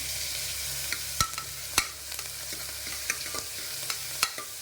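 Small onions, tomatoes and curry leaves fry in oil with mustard seeds and urad dal, a steady close sizzle broken by sharp scraping stirs every second or so, with no talking.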